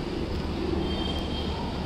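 Railway station in Delhi with trains standing at the platforms, heard as a steady low rumble and hum of station noise, fairly distant, with no distinct events.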